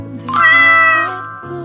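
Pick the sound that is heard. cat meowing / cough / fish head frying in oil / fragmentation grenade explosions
cat meowing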